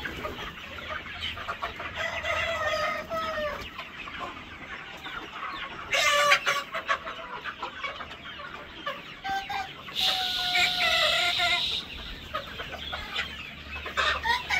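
Tiger chicken hens and a rooster cluck steadily in a pen, with a few louder calls cutting through a continuous close, busy background of poultry.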